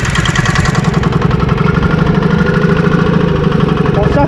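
Hanomag two-stroke diesel engine in a Massey 821D tractor running steadily right after starting, a loud, close, continuous throbbing rumble with a fast regular pulse throughout.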